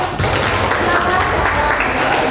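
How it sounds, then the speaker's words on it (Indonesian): A school audience at a teacher-training session at SMAN 1 Polanharjo applauds in a dense, continuous wash of many hands clapping at once, loud and sustained throughout. "Beri tepuk tangan Bapak."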